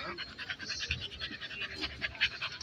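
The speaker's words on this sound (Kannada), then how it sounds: "ಈಗ ನೀವು ನೋಡ್ತಾ ಇರೋಂಥದ್ದು ನಮ್ಮ ದೇಶೀಯ ಶ್ವಾನತಳಿ ಮುಧೋಳ್ ಹೌಂಡ್" A Mudhol Hound, an Indian sighthound breed, pants rapidly and rhythmically at close range at a dog show, quick breathy puffs continuing steadily without pause.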